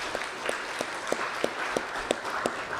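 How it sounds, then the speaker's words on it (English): Officials and guests at a county swearing-in ceremony applaud the staff, quiet and fairly distant, with light claps in a loose, even rhythm against room tone. "I'd like to give them a round of applause for all the hard work they do."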